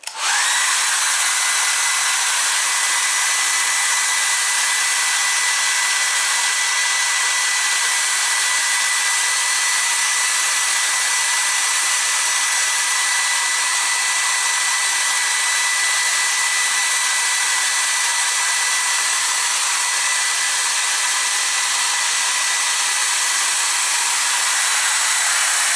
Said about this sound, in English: I'm going to take a minute to hair dry it, blow dry it